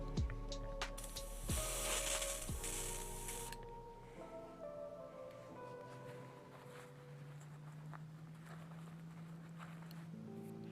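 An airbrush spraying air during cleaning between paint colors for miniatures, a broadband hiss for the first few seconds, then quieter clicks and a low hum afterward.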